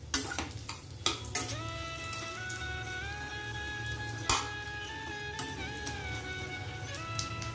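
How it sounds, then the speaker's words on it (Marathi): Dates being stirred and sautéed in ghee over medium heat for khajur modak, a steady soft sizzle with scattered spoon scrapes and taps against the pan, close and fairly quiet, with no talk. "तुपामध्ये छान आपण परतून घेणार आहे खजूर"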